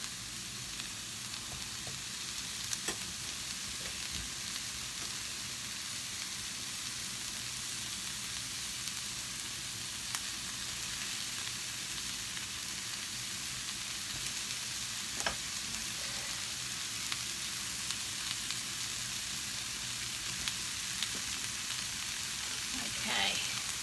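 Steady sizzling of quartered potatoes sautéing in a pan, a constant hiss with occasional small pops and crackles, close by and continuous throughout.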